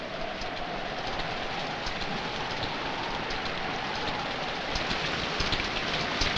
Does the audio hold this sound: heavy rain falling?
yes